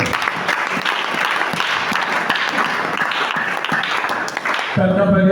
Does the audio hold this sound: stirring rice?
no